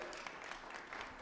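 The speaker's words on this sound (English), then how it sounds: "give yourselves a round of applause" Brief applause from a church congregation at a contemporary Sunday service, soft and steady clapping with no break across the moment.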